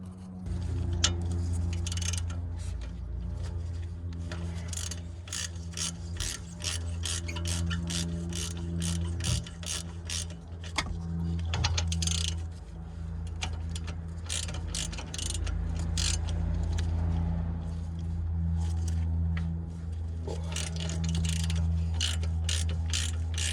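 A ratchet clicks steadily as it loosens the brake caliper carrier nuts on a Vauxhall Corsa D VXR, with long runs of rapid ticking close by and no talk.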